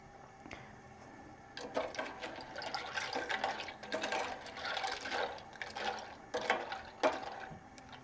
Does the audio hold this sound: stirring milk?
yes